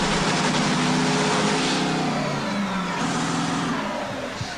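Loud, close roar of Shirley Muldowney's drag racing car warming up at the 1989 NHRA Keystone Nationals, a harsh sustained engine blare that shifts in pitch and eases slightly toward the end.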